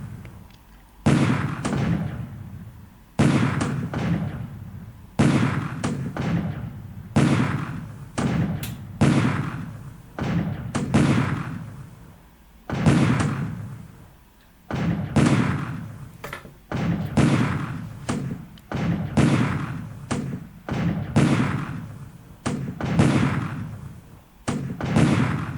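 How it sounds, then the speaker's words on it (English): Naval bombardment by a heavy cruiser formation in the War in the Pacific strategy game: a long series of heavy booming blasts, each decaying into rumble, repeating roughly every second or two, loud and with no voices. "make some bombardment"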